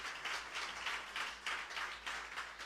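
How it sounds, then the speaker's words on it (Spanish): A church congregation claps in praise to Jesus, a sustained, rhythmic wave of many hands that pulses steadily throughout, heard from a moderate distance and fairly soft. "dale un aplauso a Jesús"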